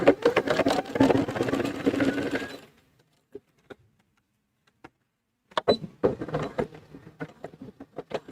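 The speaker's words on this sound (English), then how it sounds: "my needle will go right through the teeth without breaking it" A domestic sewing machine stitches through plastic-toothed zipper tape from a polyester-blend yard roll, running in a loud continuous burst, pausing with a few isolated clicks, then resuming in short uneven bursts.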